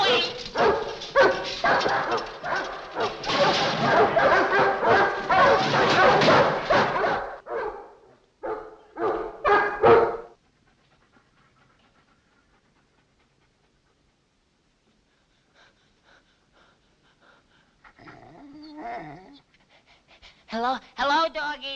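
Dogs pant heavily and bark in short bursts over the first ten seconds, then fall silent; faint voices return near the end.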